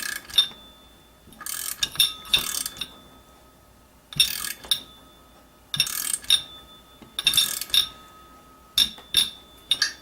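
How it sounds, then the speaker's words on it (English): A torque wrench tightening a turbo clamp to 110 inch-pounds during an H1C turbo rebuild, with bursts of rapid ratcheting clicks separated by short pauses, close and crisp with no talking. "we've set our torque wrench at 110 inch-pounds. I'm going to go ahead and torque this"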